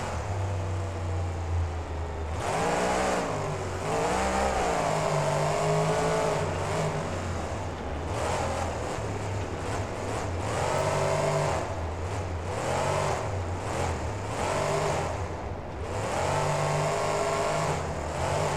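The Gravedigger 40th anniversary monster truck revs its engine in the BeamNG video game at a virtual Allegiant Stadium freestyle, with repeated rising and falling throttle surges sounding loud and close throughout.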